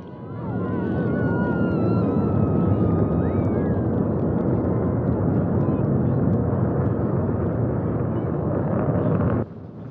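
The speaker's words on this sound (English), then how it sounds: "Liftoff of the 84th Progress resupply ship to the International Space Station." Launch of the Progress MS-23 resupply ship, a heavy continuous rocket roar rumbling loud and steady for the full length before easing at the very end, with a voice announcing over it.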